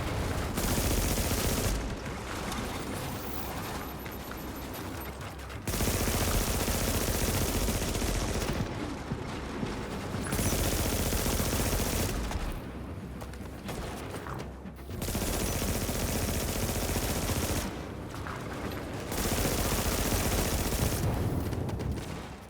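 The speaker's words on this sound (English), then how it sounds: "that is the new exotic SMG" Sustained bursts of rapid automatic fire from the House, an exotic submachine gun in The Division shooter game, loud and close, in about five long volleys broken by short pauses, with no talking.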